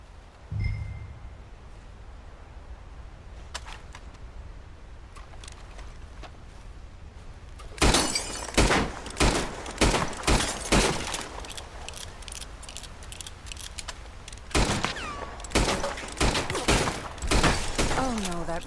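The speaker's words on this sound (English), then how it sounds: "My turn. I'll shoot a few more this time." Shooting practice in the Western game Red Dead Redemption 2: a quiet outdoor ambience, then a rapid run of loud, close gunshots crack out in uneven bursts, some overlapping, with brief pauses between volleys.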